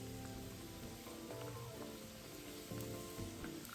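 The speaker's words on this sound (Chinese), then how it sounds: "再将第一回油炸后的木薯年糕再回锅复炸一次，大火复炸个50秒至1分钟。" Tapioca nian gao goes back into hot oil for a second high-heat deep fry, giving a steady low bubbling crackle with scattered soft pops that carries on evenly throughout at moderate volume.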